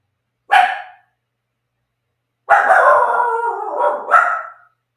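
A dog gives one short sharp bark, then after a pause lets out a long wavering howl that rises into a final yelp, loud and close in an indoor room with nothing else audible.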